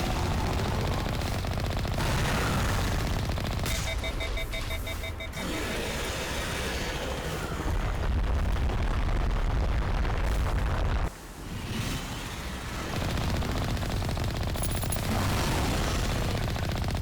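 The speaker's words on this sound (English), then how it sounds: "Cannon blast." Spaceship cannon fire in the Mass Effect remake game: heavy, continuous booming blasts and rumbling explosions fill the clip at steady loudness, with a brief drop near the end before the din resumes.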